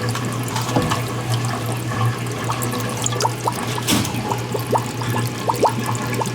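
An aquarium filter runs with its filter floss pulled out, water bubbling and trickling continuously in close view, with scattered small splashes and gurgles over a steady low hum from the pump.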